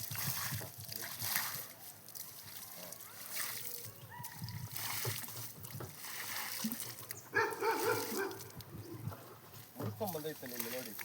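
Dogs lap and splash at water, with sloshing bursts and an occasional whimper or soft bark, while people talk loudly over them throughout.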